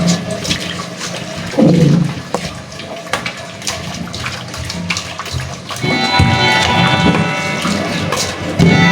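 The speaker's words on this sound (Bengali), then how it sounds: "ধুয়ে ঠান্ডা পানি দিয়ে দিতেছে।" Running water splashes and gushes loudly as pangas fish is rinsed with cold water, in uneven surges with clinks and knocks from handling, fairly close by.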